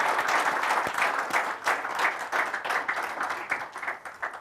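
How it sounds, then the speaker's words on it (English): An audience at an interview event claps together in a dense burst of applause that starts strong, then thins into looser, uneven clapping as it fades. "I think we have to clap for that."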